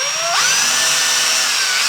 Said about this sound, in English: I'm going to start with just a 3/16 inch bit, holding on here. Kind of going to start at an angle.